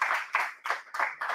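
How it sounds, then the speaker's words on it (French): Clapping for two Lenovo guests at a company's 30th-anniversary event, heard as a handful of distinct bursts in an even rhythm, close and fairly loud with no voices. "On peut les applaudir très fort."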